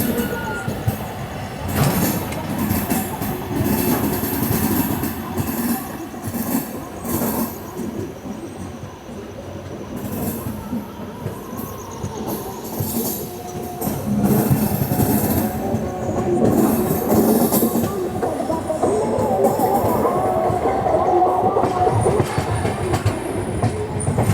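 Train approaching on the line from Bhusawal Junction, steady rail rumble with wheel clatter and a rise in loudness toward the end, heard from a nearby track.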